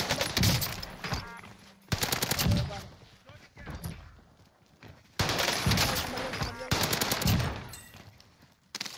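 Gunfire in Call of Duty Warzone, including a hip-fired SMG and pistol shots, comes in dense loud bursts of rapid shots separated by short quieter gaps, with a player talking over parts of it.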